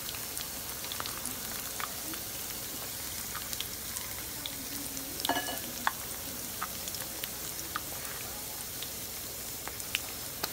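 Battered flounder fillets sizzle and crackle steadily in a pan of hot oil, a close, continuous hiss dotted with small pops and spatters.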